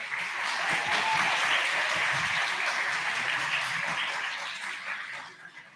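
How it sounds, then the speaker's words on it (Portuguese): Audience applause in a Portuguese-speaking lecture hall welcoming someone speaker at an artificial intelligence talk, a dense steady wash of many hands that holds for several seconds, then thins and fades near the end. "Uma salva de palmas para ela."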